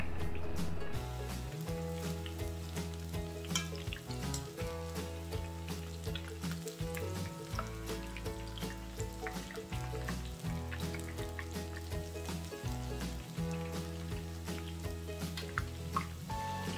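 Vegan Japanese-style vegetable tempura frying in hot oil, a steady crackling sizzle with dense popping bursts, quiet and continuous throughout with a low background hum.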